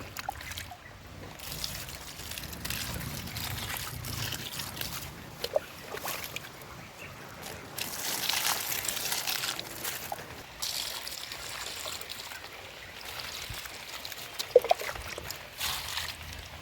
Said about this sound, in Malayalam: ഇത് നമുക്ക് ചെടി ഈ മുളകിൻ്റെ മൂട്ടിൽ ഒഴിച്ചു കൊടുക്കാം